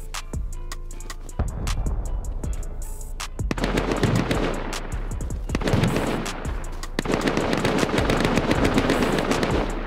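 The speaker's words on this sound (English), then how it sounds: "there's gunfire coming from the top." Rapid bursts of automatic gunfire crack and rattle almost continuously, with sharp single shots mixed in, loud and close, like a game firefight.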